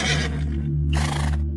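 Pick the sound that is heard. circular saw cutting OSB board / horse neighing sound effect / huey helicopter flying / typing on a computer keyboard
horse neighing sound effect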